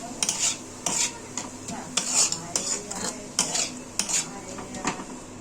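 A spoon scrapes and clinks against a pan as a spiced aloo paratha filling is stirred and sautéed, repeated close strokes in an irregular rhythm with a faint sizzle underneath and no talking.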